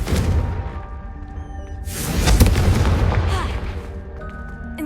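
Confringo spell explosion in Hogwarts Legacy, a booming blast with a rumbling tail, loud and close, amid other game effects.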